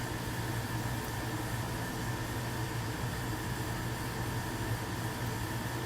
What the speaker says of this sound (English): That's a refrigerator.